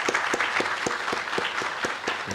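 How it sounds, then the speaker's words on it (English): A small group claps steadily and evenly for a couple of seconds at an immigration ceremony. Moderately loud, with no voices over it. "Please give yourselves a round of applause."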